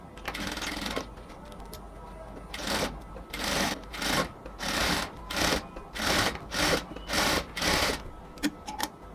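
A sewing machine stitches lace onto a band collar. It runs in a long whir, pauses, then sounds in a series of short, evenly spaced bursts of loud mechanical rattling, close up, with no speech.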